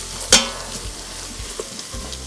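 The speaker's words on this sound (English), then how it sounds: "we're gonna add some minced garlic and stir that in just for a few seconds" Minced garlic sizzles as it is stirred into rendered bacon fat in a pressure cooker pot, a short burst of frying with one sharp scrape, then a quieter steady hiss.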